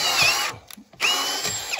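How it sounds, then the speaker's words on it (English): A power drill bores pilot holes into an old mine ladder, two loud whining bursts separated by a short pause, close up with no talking. "drilling pilot holes now"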